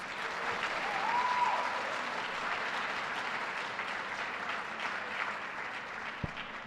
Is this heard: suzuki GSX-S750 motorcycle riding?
no